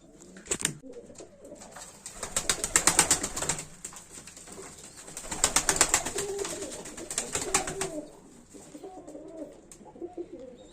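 Pigeons coo repeatedly close by, their soft throaty calls rising and falling in waves over a rustling background.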